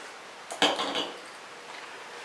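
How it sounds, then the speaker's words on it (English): A short hiss of face mist spraying from a bottle bursts out once, close and fairly quiet, then fades into soft room noise. "I'm going to now spray my face"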